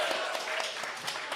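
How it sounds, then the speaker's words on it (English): A room full of people gives a short round of applause for a teacher, a dense, steady patter of clapping with a few cheers mixed in, close and fairly loud throughout. "you can do a round of applause for Miss Diedrich"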